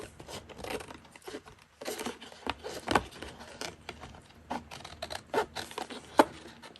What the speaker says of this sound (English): now I am just going to cut around